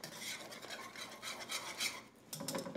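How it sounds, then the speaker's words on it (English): A whisk scrapes and swishes rhythmically through thickening cornstarch apple pie filling in a pot, close and fairly quiet, with a brief pause before the strokes resume. "Make sure you keep whisking because what's happening is that cornstarch is kind of cooking out."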